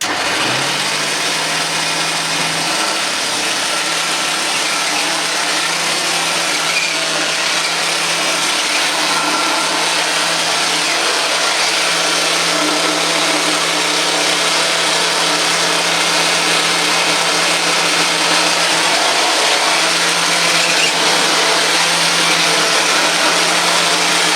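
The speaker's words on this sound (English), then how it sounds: "But hey, at least we can vacuum." A Hoover Junior 375 upright vacuum cleaner drones steadily and loudly, a constant motor whine with a low hum beneath, running alone without speech.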